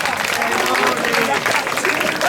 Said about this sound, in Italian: Un applauso, sì, ai genitori di questi bambini.